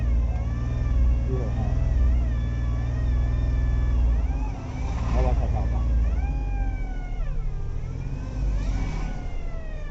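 A Mahindra Bolero Power Plus ZLX engine with a fault runs with a steady low rumble and uneven revving surges, heard close up while voices talk over it throughout.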